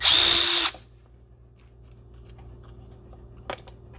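A power tool loosens a bolt on a 2008 Toyota Highlander 4WD during a transmission fluid change, giving one loud, close whirring burst that stops abruptly, followed by a quiet hum and a brief second blip.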